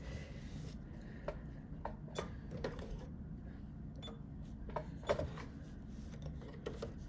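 A sewing machine stitches with gray thread in a soft, steady mechanical hum, with light irregular ticks and clicks scattered over it and no voices.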